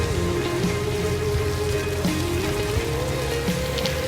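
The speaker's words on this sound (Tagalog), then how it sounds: "Kakainis naman, tagal tumila ng ulan." Steady rain falls, a dense continuous hiss and patter with no breaks, mixed with a faint sustained tone underneath.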